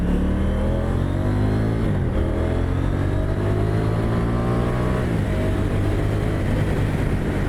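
A KTM 790 Duke parallel-twin motorcycle engine revs smoothly through rising gears, the pitch climbing and dropping at each shift, loud and continuous up close.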